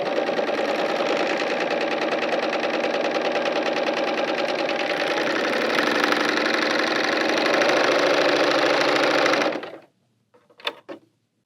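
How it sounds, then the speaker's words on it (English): A Bernina L890 serger stitches cotton fabric on a 3-thread narrow overlock, running in a fast, steady mechanical whir for about nine seconds before stopping, followed by a few faint clicks. "I'll go ahead and serge"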